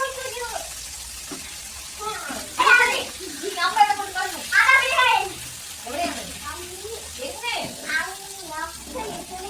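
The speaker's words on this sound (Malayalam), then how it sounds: "മീനിനെ ഒന്ന് ഇളക്കി ഇട്ട് കൊടുക്കുന്നുണ്ട് ഇങ്ങോട്ടും ഇങ്ങോട്ടും തിരിച്ചിട്ട് കൊടുക്കുന്നുണ്ട്" Fish fries in a pan for a fish curry while it is stirred and turned, giving a soft, steady sizzle with a few scraping stirs. A person talks nearly the whole time over the frying.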